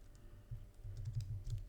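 Code is typed on a computer keyboard in a quick, uneven run of soft, close keystrokes, alone without any talking.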